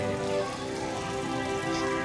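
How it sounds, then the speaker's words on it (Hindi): Rain falling in Karachi, a steady dense patter of drops on surfaces heard at moderate distance without pause, with no talking over it. "तो आप बारिश दिखाएं, बारिश देखें"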